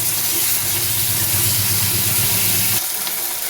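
Ground ginger, garlic and green chilli paste sizzling loudly in hot oil for prawn curry with potatoes, a dense continuous hiss that drops off abruptly near the end.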